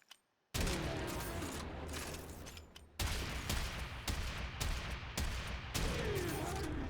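Hek shotgun fire in a video game, heavy blasts in quick succession after a short silence, loud and dense with sharp repeated onsets and mechanical clatter between shots.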